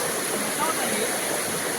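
Strong river water flowing at night during traditional village fishing, a dense, steady rushing wash that fills the whole clip at close range with no gaps.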